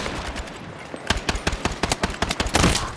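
Pistol gunfire in Battlefield 6 rattles off in a rapid string of sharp shots after a brief pause, loud and close, followed by a denser burst at the end.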